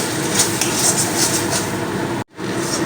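A spoon scrapes and clatters in a pan while sweet kachori filling is stirred over a medium flame, steady metallic scraping and clinks close up, with a brief dropout near the end.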